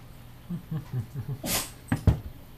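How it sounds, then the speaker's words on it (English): A dog sneezes sharply a few times near the end, after soft snuffling and whimpery noises close by. "I know it makes me sneeze too, dog."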